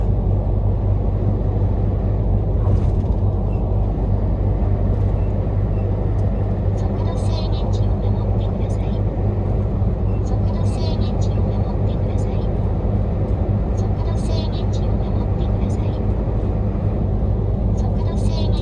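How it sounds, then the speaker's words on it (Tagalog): A truck cruising above 80 km/h on a Japanese highway near Fujinomiya, with a steady loud engine and road drone held back by a speed limiter, continuous throughout under someone talking. "Maingay lang yung truck namin kasi lumalagpas ako ng 80"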